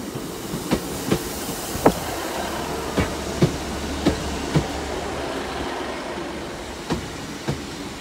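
A two-coach diesel passenger train, unit 150-232, rolls past at Dawlish Warren with a steady run of clickety-clack beats from the wheels, each rail joint knocking out at irregular intervals over a low rumble.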